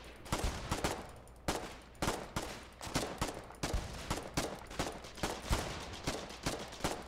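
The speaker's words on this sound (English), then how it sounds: "Oh, I hear an SMG, is that ours?" Submachine gun fire in the war game Foxhole during an offensive at Brackish Point: repeated sharp short bursts and single cracks at an irregular, fairly quick pace, moderately distant and fairly faint, with no talk.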